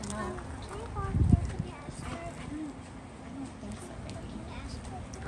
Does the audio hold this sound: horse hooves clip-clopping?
yes